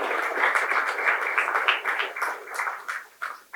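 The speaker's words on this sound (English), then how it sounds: "let's give a round of applause to somebody" An audience at a talk honouring a distinguished alumnus breaks into loud, dense applause that swells and ebbs unevenly before thinning out toward the end.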